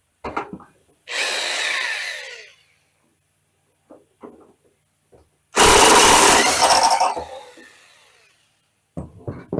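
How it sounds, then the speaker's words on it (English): A Harbor Freight electric impact gun removes a nut from an air-cooled VW Beetle cooling tin in two loud rattling bursts separated by quiet gaps of small clicks and handling noises. "I'm using my electric gun from Harbor Freight."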